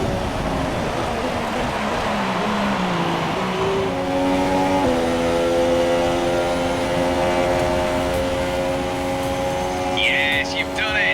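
A Williams F1 car on its final lap at Monza in the F1 2017 video game: a loud engine whine climbing and shifting through gears, then holding a high steady pitch, with a voice briefly over it.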